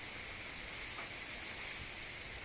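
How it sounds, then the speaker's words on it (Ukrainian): Heavy rain pouring down during a storm at an apiary, a dense steady hiss of water falling without pause, no voices. "Вітер який дощ валить як зідра."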